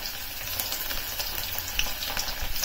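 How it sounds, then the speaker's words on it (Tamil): Small balls of cabbage pakoda batter frying in hot oil, an even bubbling sizzle with light crackles and pops, close and continuous, no voices. "இப்போ பக்கோடா வந்து குட்டி குட்டியா உருட்டி இந்த மாதிரி இந்த சைஸ்க்கு குட்டி குட்டியா உருட்டியும் நம்ம வந்து போட்டுக்கலாம்."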